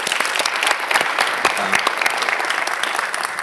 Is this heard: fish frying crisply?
no